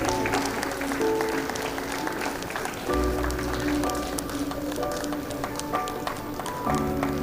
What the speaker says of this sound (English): A big round of applause for everybody